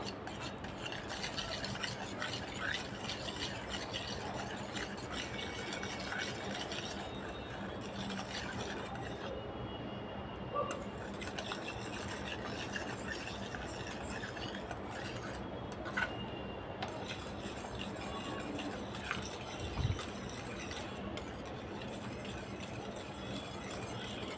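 Strained yogurt (chakka) being gently mixed by hand for shrikhand, giving a soft, continuous stirring and squelching texture close up, steady throughout with a few brief clinks.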